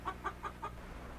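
A hen clucks in four short, evenly spaced bursts over a low background hum, fairly faint and with no voice over it, on a dubbed film soundtrack.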